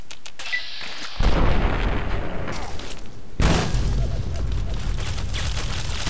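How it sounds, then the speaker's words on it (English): Two heavy video game explosions from Fallout 3 in quick succession, each a sudden loud blast followed by a rumbling tail of crackling noise. "What was that explosion?"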